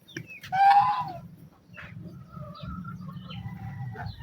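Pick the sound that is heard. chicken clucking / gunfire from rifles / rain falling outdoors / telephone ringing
chicken clucking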